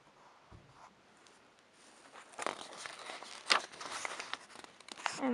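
Pen or pencil drawing a cartoon ghost on paper: quiet scratchy strokes, faint at first and then busier and louder in the second half, with short scribbling bursts and no talking.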